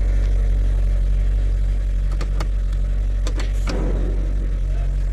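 A Mazda6 engine idles steadily with a low, continuous hum, a few brief clicks and a short rustle overlaid, the car nearby with its compressor and AC system in question.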